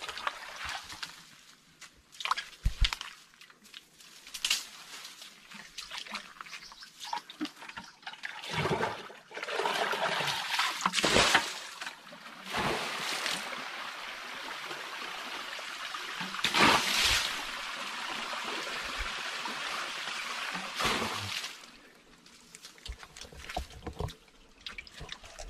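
Water drains and trickles out of a rock pool in a rural countryside setting, with uneven gushes, splashes and pouring bursts that come and go over a long stretch, fairly close and moderately loud.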